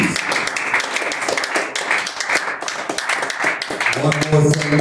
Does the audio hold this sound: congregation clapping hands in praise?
yes